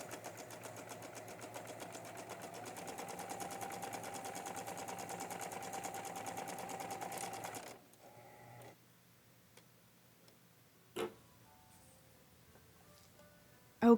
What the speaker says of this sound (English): now we're using that zigzag stitch that I showed you a minute ago, and we are finishing off the raw edges of those shoulder seams